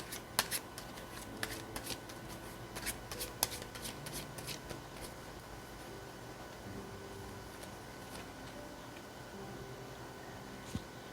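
Tarot cards being shuffled by hand, a run of crisp riffling snaps and soft slides that thin out toward the end, close and steady, with no voices.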